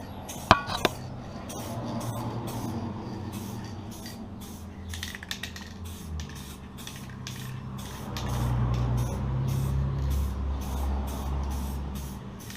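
An aerosol spray can coats a bike frame during a painting job, with short hissing bursts and a steadier, heavier spray from about eight seconds on, close by and moderately loud.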